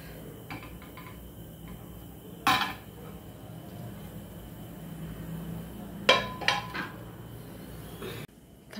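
Bhakri flatbread goes into a tiffin container in a home kitchen, giving two brief metallic clatters, one single and then a quick cluster, against quiet background noise.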